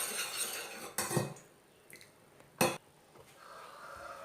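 A spoon and a knife clink together in a quiet kitchen, giving a few sharp, separate metallic chinks with pauses between them.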